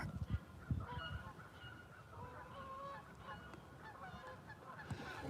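Geese flying down toward the water, a steady stream of overlapping honks at middle distance over faint low rumbling and soft handling bumps.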